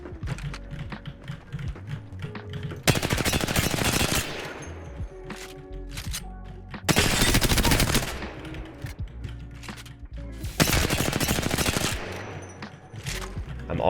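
Bursts of automatic weapon fire at a training dummy in Apex Legends come in three sustained volleys, loud and close, separated by quieter gaps of clicks and game sounds.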